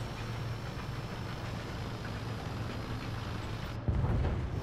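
A tank engine idles in the War Thunder video game, a steady low rumble running continuously, then swelling louder near the end.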